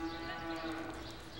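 Cattle at a cutting horse competition give a long, steady, droning moo that fills the whole stretch, loud and close against arena background noise.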